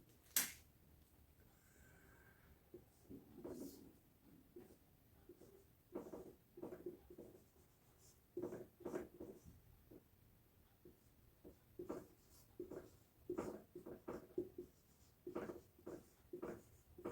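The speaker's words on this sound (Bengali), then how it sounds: "আমরা ভাগগুলো লিখে ফেলি।" Pen or chalk writing out the parts of an English tense lesson, a series of soft scratchy strokes and taps in irregular bursts, quiet and close, with no talk.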